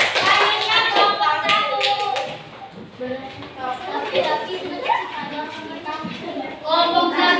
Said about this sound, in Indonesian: Kasih tepuk tangan dulu untuk kelompok 3.